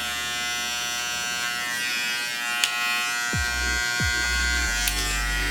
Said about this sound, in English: I would take trimmer and just cut a bit, not too much